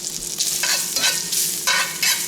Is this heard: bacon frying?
yes